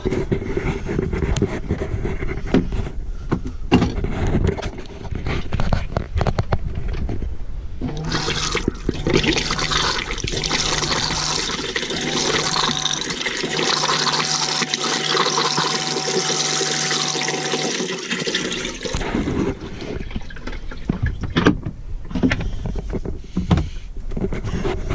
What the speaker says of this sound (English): What we've got to do is flush some through the toilet